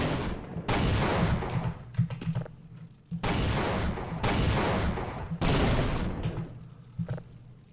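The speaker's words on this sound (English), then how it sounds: "Ah, the explosion generator." Repeated explosions from an explosion generator in a video game, each a loud broadband blast lasting a second or more, coming in several close bursts with brief gaps and heavy low rumble.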